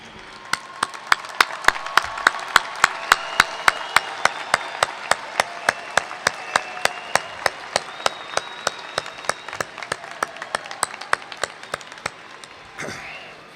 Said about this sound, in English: give a round of applause to your family and friends that are here today